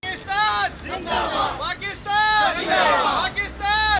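Protesters at a Pakistan Peoples Party women's wing street demonstration chant slogans in loud, rhythmic bursts, a crowd of voices rising and falling together in repeated call-and-response phrases.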